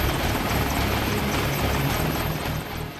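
An Apache military attack helicopter flies close by, its rotor and engine producing a loud, steady chopping roar that fills the whole stretch without any voices.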